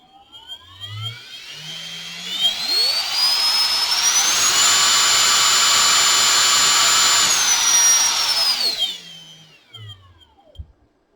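Brushless motor salvaged from a Ridgid Octane jigsaw, driven by a cheap BLDC controller, spins up from rest to a loud steady high-pitched whine, holds for several seconds, then winds back down to stop, with no talking.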